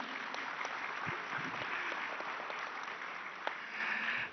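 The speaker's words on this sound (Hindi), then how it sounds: "वाह, कमेंडेबल, जोरदार तालियां प्लीज।" An audience applauds at a summit, with continuous clapping from a seated crowd and scattered sharper claps standing out, all heard from a moderate distance.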